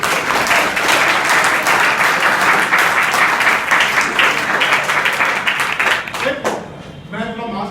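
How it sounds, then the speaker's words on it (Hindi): Students in a school hall at an inter college education program applaud loudly, a dense, sustained burst of clapping that tapers off near the end as a voice begins speaking. "तो इसके लिए एक और ताली।"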